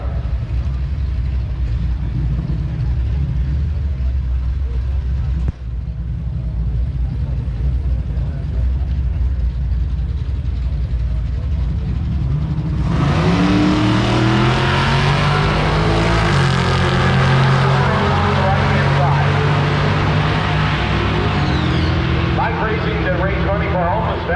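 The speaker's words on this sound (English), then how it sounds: "that'll bring up a couple of Chevrolet pickup trucks" 1970 Chevrolet pickup trucks racing at Gainesville Raceway during a drag week event, a steady engine drone that jumps into loud roaring acceleration partway through, with a commentator talking over it throughout.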